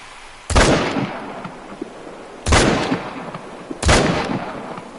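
Three sharp, loud gunshots from a 10-gauge shotgun in theHunter: Call of the Wild, spaced about two seconds apart, each with a booming crack and a decaying echo.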